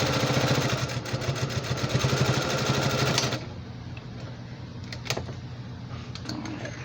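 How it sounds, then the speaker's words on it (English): A sewing machine backstitches a firm seam on a quilted fabric basket, humming in a fast steady rhythm for about three seconds before stopping, followed by quiet handling noises. "so I always back stitch the whole thing"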